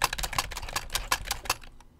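Rapid, close-up computer keyboard typing with a quick irregular patter of key clicks, fairly loud and with no voice over it, trailing off toward the end.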